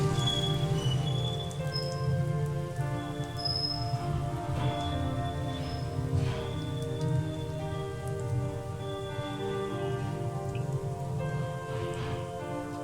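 Egg-brushed bread slices fry steadily in a pan for a spicy masala bread toast, giving a continuous soft crackling sizzle throughout, fairly quiet, with no talk.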